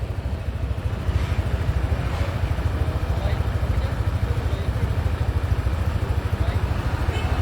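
A motorcycle with an open-pipe exhaust idles nearby, giving a rhythmic, pulsing putter that stays steady throughout.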